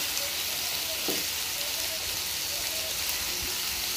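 Chicken pieces frying in oil in a kadai, a dense steady sizzle like rain on a surface, with a couple of soft knocks as the pieces are turned.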